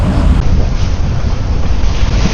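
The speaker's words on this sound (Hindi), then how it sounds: "डैम में से तो डैम का ऊपर का पानी नीचे आ रहा है" Water spilling over a small dam in a forest reserve, a loud, dense, continuous rush with a strong low rumble, close and unbroken.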